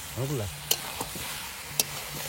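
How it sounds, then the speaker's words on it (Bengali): Cut potatoes dropped into a pan of frying country chicken curry: soft sizzling under a few sharp clacks of stirring, with a brief voice sound at the start. "এখন দিয়ে দেবো কেটে রাখা আলু"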